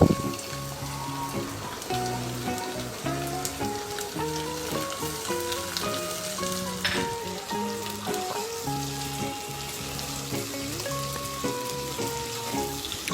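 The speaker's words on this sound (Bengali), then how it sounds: "এখন আমি এতে মাছের মাথা আর মাছটা দিয়ে দিচ্ছি" Fish head and fish pieces fry in a pan with dried fish and onion, a loud, continuous, close sizzle with faint music playing underneath.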